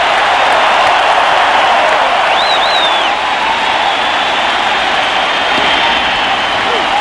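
Baseball crowd at a World Series game standing and applauding for a pitcher, a dense, steady roar of clapping and cheering that fills the whole stretch, with a faint whistle partway through.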